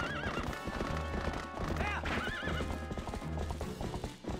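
A horse in Zelda: Twilight Princess gallops with rapid, rhythmic clip-clop hoofbeats and lets out repeated loud neighs over game music, with a voice speaking briefly.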